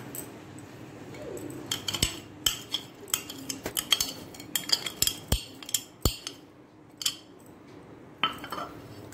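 Roasted nuts being mixed into a sweet gujiya filling with a metal spoon in a bowl, giving irregular sharp clinks and scrapes at close range with quiet pauses between.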